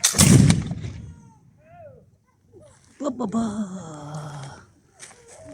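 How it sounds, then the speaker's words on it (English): A gun loaded with a gunpowder charge is fired once in Jersey, producing a single loud, close blast at the very start that decays quickly, followed by people talking. "Firing after 3, it is advisable to cover your ears just for safety."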